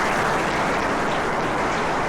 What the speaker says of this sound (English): I think we should give a big round of applause